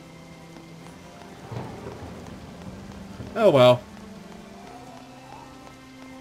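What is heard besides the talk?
rain in video game Harvest Moon: Animal Parade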